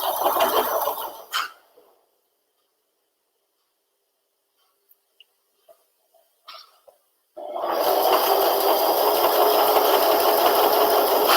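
A sewing machine stitches a fabric face mask in a loud, fast whirring burst, stops for several seconds of near silence broken by small clicks, then starts again in a steady, sustained run.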